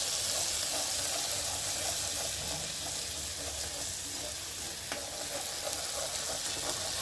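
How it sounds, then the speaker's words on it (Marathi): Spice masala for a homestyle brinjal curry sizzles steadily in hot oil while being stirred, a continuous close frying hiss with occasional scraping, no talking. "आता हे मसाला असा भाजू द्यायचा थोडंसं"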